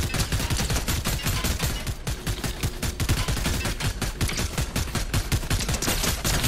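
Rapid, dense bursts of automatic gunfire from a battle-royale shooter game as a player fires at a vehicle's tires, continuous and loud for several seconds with no talk.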